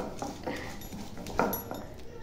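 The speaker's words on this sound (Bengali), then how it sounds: "শিল নোড়াতে বেটে দিচ্ছে আজকে" Spices and chillies being ground on a shil nora grinding stone: a close, continuous gritty rubbing with rhythmic heavier strokes of the stone, with voices talking faintly over it.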